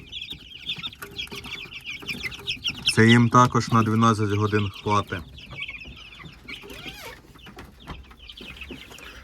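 Chicks clucking and peeping in a brooder around a full feeder, a steady busy chatter of small birds with someone speaking over it in the middle.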